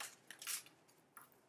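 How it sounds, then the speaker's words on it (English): Oracle cards from an ARgENTUM Archetypes deck being shuffled by hand, a few quick, crisp papery riffles and flicks, close and quiet, with no talking. "So I'm just shuffling."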